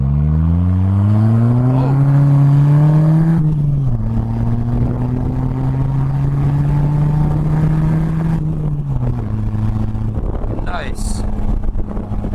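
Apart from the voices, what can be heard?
Polaris Slingshot driving on twisty road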